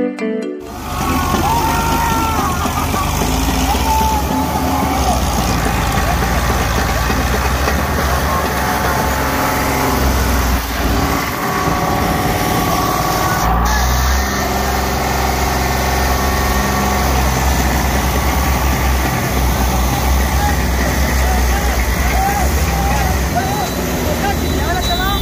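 An Eicher 485 tractor engine runs steadily with a low rumbling drone, busy and loud across the whole stretch, with voices talking over it.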